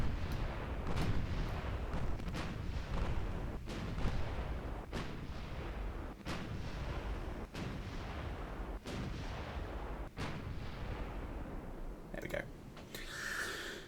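Heavy naval battleship guns firing in a Greek campaign naval war game, a steady string of loud booming salvos roughly every second over a constant rumbling battle din, with sharper crackling impacts near the end.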